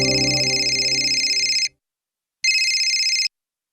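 A telephone rings loudly in two bursts, a long trill followed after a short pause by a shorter one, with no talking over it.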